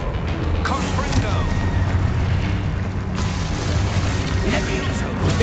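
Confringo fire-blast spell cast in Hogwarts Legacy, heard as a dense, continuous rumbling boom with crackling bursts, loud and sustained throughout a wizard duel, no talk over it.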